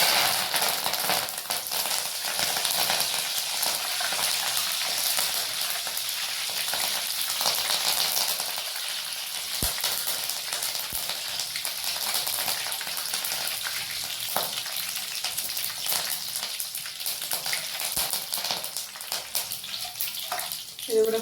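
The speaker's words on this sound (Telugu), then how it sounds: "ఇది కూడా ఫ్రై చేసేసుకుందాం." Slices of raw banana and curry leaves frying in hot oil for pakoda, giving a steady close hiss and crackle that carries on throughout with occasional small pops.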